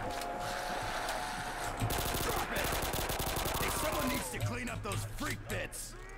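Rapid gunfire from a gun in Call of Duty Zombies on the Rust map, dense bursts of shots over game sounds, with a voice talking over part of it.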